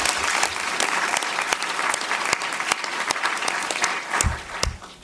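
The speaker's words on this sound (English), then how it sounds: "in particular Hawen and Megan, so maybe a round of applause for them" A crowd applauds steadily, dense clapping filling the room for several seconds before beginning to thin out toward the end.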